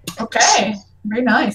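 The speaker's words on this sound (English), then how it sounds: "Bless you, whoever sneezed." A person sneezes sharply during a tabletop Dungeons & Dragons session, one explosive burst followed by a second breathy catch, close and loud amid people talking.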